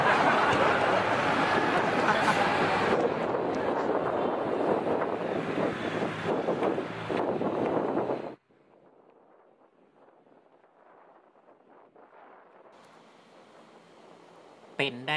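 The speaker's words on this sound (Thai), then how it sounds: "ลมแรงขนาดปัดผมไปปัดผมมาเนี่ย" Strong wind buffets the microphone at Pattaya beach in Thailand, a loud continuous roar for about eight seconds that then drops abruptly to a faint hiss with quiet sounds in the background.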